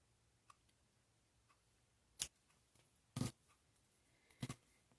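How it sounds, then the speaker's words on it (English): Scissors snip the fabric corners of a table runner in a quiet room, giving three sharp, separate cuts spaced about a second apart, with faint ticks between them. "I forgot to snip to the corners"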